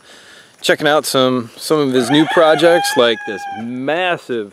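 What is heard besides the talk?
chickens clucking and rooster crowing at homestead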